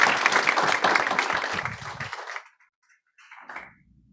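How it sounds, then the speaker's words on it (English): Audience applauding a panel at an event, a dense burst of clapping that lasts about two seconds, thins out and stops, followed by a brief faint murmur. "Let's give a round of applause to James, Michael, and Lindsay."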